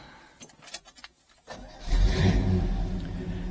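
A 1969 Oldsmobile 442 is cranked and fires up: faint clicks and jingling first, then the engine catches with a burst and settles into a steady, rumbling idle.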